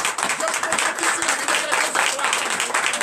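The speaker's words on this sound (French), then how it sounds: "Donnez l'acclamation à Jésus." A congregation at a night deliverance church service applauds in acclamation of Jesus, with dense, continuous clapping and a few voices calling out, loud and sustained throughout.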